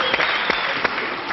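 A TV studio audience applauds Dorothée with a steady dense clatter of clapping that holds for the whole moment.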